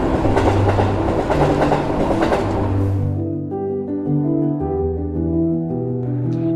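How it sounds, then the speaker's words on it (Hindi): A train moving on rails, heard from inside the carriage after departure on a trip to Kolkata: a steady rumble with rattling, then a calmer, humming stretch with low tonal drones. "फाइनली हमारी ट्रेन खुल चुकी है।"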